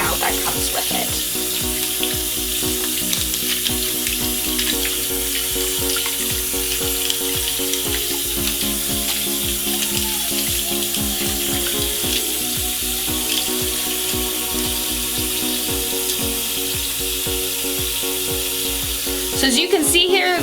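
Makeup brushes are rinsed under a running tap to wash out the soap, a loud, steady spray of water hitting the sink with faint clinks and handling noises throughout.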